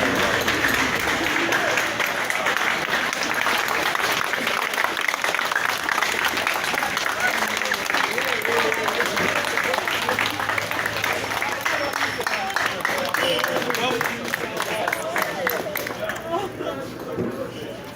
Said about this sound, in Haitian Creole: Il y a des gens qui viennent applaudir le ministre là